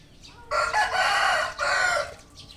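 Thai fighting rooster of a Gai Chon and Thai cross, crowing close and loud in one drawn-out, strained call that breaks briefly midway, with no voices.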